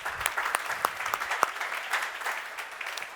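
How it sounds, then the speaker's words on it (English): Applause from a beverage industry summit audience for entrepreneurs in the room: moderate clapping with scattered distinct hand claps standing out, continuing steadily for a few seconds. "Let's give all them a round of applause"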